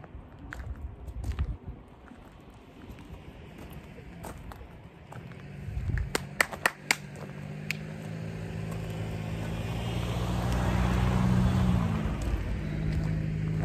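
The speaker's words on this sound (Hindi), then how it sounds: "गाड़ी आ रही है," A car approaches on a foggy, cloud-covered mountain road in Cyprus, its engine rumble growing steadily louder and nearer against scattered clicks and background noise.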